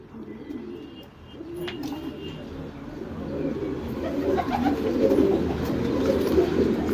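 Racing pigeons cooing in a loft, soft low murmuring coos overlapping in a steady bed, with faint chirps and background rustle and a voice or two heard dimly underneath.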